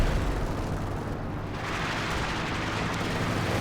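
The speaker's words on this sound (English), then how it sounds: "That's a bombing run." An artillery bombing run in the Company of Heroes 2 video game produces a dense, continuous roar of overlapping explosions and rumbling booms, loud and sustained throughout.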